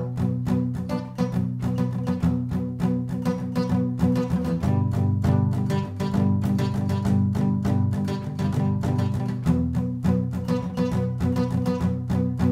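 An acoustic guitar plays a strumming pattern up to speed, with steady, full down-and-up strums ringing loudly and continuously with rhythmic chord changes.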